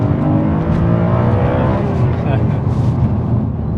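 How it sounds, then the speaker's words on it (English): A 2007 BMW M3 V8 engine revs and roars steadily, loud and close, with a voice faintly mixed in beneath the engine noise. "But the engine spins up and down very quickly."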